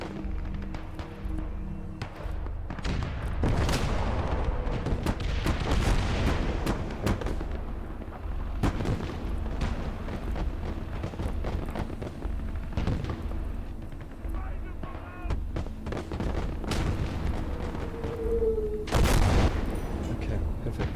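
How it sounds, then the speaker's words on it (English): World War Two artillery fire in the game Call to Arms Gates of Hell on the Eastern Front, Soviet versus German forces: repeated heavy booms and gunshot blasts at irregular intervals, with someone talking now and then between them. "Oh, we've got artillery here."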